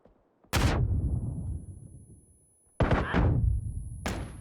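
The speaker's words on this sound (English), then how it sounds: "Flashbang out." A flashbang grenade detonates in the battle royale game PUBG during a competitive pro scrim match, giving two loud, close bursts of blast and rumble, each ringing and fading away.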